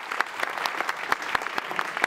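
A theatre audience at a benefit stage evening claps steadily, a dense, even patter of many hands filling the hall for the whole stretch with no speech over it.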